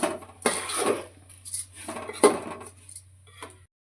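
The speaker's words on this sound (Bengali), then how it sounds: "সব কিছুর সাথে চালগুলো মিশিয়ে দেবো।" Rice being mixed with salt, turmeric and sugar in a pot, a handful of scraping, clinking strokes of a spoon against metal, close and fairly loud, ending in silence.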